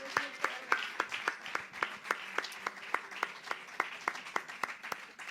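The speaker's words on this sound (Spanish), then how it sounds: "Un aplauso al maestro." Audience applause for a flamenco maestro at a Spanish Gitano flamenco event, a steady run of sharp, fairly close hand claps in an even rhythm, lasting about five seconds with no talk over it.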